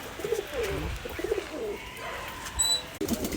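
Local Giribaz pigeons in Rajshahi coo in low, repeated throaty bursts, fairly close, with a faint high chirp near the end and soft background noise.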